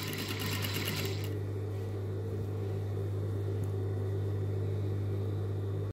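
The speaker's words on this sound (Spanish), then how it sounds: "continúo con mi costura alrededor de todo el escote" A sewing machine runs steadily while stitching around the neckline of a sleeveless dress, giving a constant low mechanical hum with a brief busier rattle at the start.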